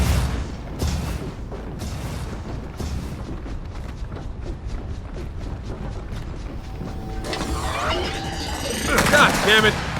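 Rapid gunfire in Gears of War 4 as enemy snipers open up: sharp cracks and booms at an even pace, with heavier bursts and rattling near the end, all over a dense, continuous battle din.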